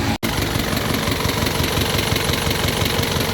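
Isuzu 4HG1 diesel engine idling steadily after a fuel pump repair, a loud, continuous close-up rumble with a slight knocking texture, briefly cut by a short dropout near the start, no voices.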